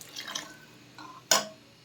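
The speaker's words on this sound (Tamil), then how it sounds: "மசாலா நல்லா மிக்ஸ் பண்ணோன்னே அடி பிடிக்காமல் இருக்கிறதுக்கு கொஞ்சமாக தண்ணி ஊற்றிக்கலாம்" A little water poured into masala in a pan while cooking mutton chukka gives faint trickles and drips, ending in one short, sharper splash and hiss near the end, quiet with no voices.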